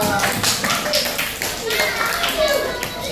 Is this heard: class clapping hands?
yes